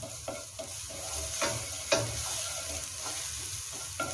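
Onion and garlic frying in rendered chicken fat left from chicken medallions, a steady soft sizzle with occasional stirring scrapes and clicks, close and fairly quiet, no talking.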